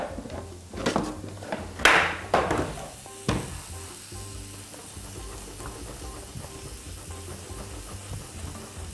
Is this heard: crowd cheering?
no